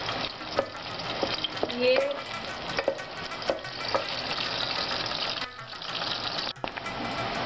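Half an onion frying in a pan, a steady hiss and crackle with clinks of a spoon stirring, and brief talk over it.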